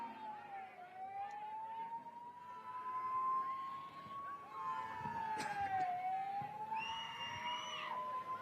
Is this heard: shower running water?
no